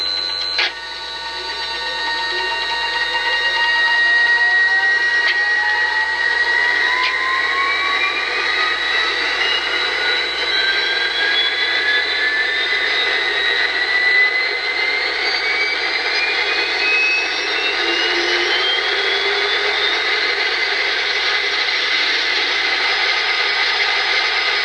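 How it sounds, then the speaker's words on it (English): A high, jet-like turbine whine spools up with rising tones, then holds a loud, steady roar from a nearby MTH Amtrak UAC Turbotrain model. "it sounds very much like a helicopter or a jet engine when it's powering up and when it's running"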